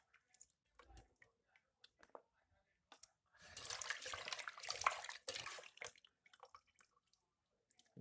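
Water splashing and draining from a pot of cooked food during home dinner preparation, a loud rushing burst of several seconds framed by scattered drips and small clatters.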